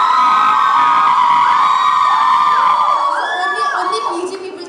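Students at a college day programme cheer, whoop and shout together as a loud, sustained crowd, the roar tapering slightly toward the end.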